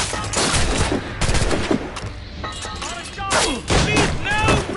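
Musket volleys crack in Assassin's Creed Rogue, with dense overlapping shots and booms from a firefight. Battle noise continues throughout as soldiers shout over it.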